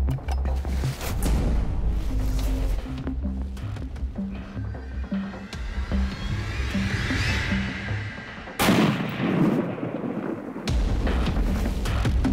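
A single loud rifle shot fired at a bull elk while hunting in New Mexico cracks out near the end amid rustling outdoor noise.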